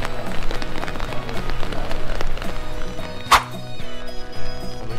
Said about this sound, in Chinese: 哇，下雨了